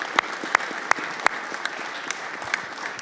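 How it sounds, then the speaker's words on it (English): An audience at a congressional committee hearing gives a round of applause, a steady patter of many hands with a few sharp, louder claps standing out near the start, heard from moderately far in a large room. "Give him a round of applause."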